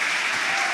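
Football crowd in the West Stand of Leeds' ground applauding substitutes coming off the bench against Coventry: a brief, dense burst of clapping filling the space, steady and loud, with no speech over it.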